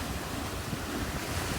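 Choppy sea waves wash and churn near a shore in a steady broadband roar, with buffeting wind noise on the microphone throughout.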